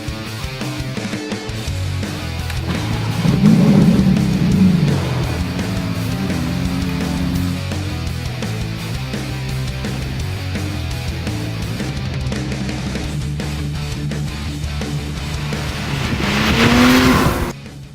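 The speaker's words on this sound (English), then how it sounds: "today at NCM Motorsport Park, I have a GT2 RS, and I'm going to take it on track" A Porsche GT2 RS at NCM Motorsport Park drives hard on track, its engine roaring steadily with rising and falling revs through gear changes and brief tire squeal, loud and close throughout.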